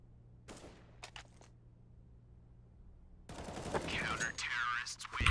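Rapid gunfire bursts in a Counter-Strike match as a player sprays bullets through wooden cover, a few short faint shots early, then a loud sustained spray with a commentator's voice underneath.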